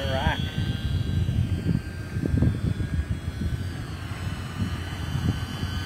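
E-Flite UMX Gee Bee R2 small electric model airplane flying outdoors, a steady whining motor drone with a brief rising pitch sweep, heard under people talking nearby.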